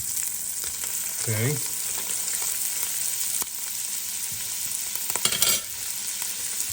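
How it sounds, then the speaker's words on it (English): Butter, a big scoop, melting and sizzling in a frying pan for a carnivore meat-and-eggs meal: a steady broadband frying hiss runs throughout, with a brief clatter partway through and a voice saying a single word. "now I'm going to put a big hefty scoop of butter in the pan"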